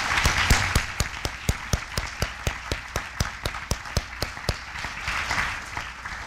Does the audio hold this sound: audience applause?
yes